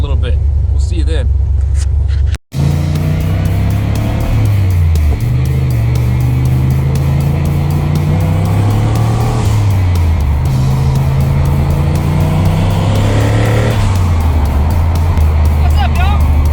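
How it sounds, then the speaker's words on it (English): A car fitted with a Team-Z Street Beast control arm kit and reset pinion angle drives along a road, its engine a steady close drone whose pitch rises and falls with speed, with road noise throughout. "How's the drive, Connor?"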